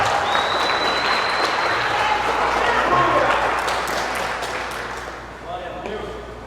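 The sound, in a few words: applause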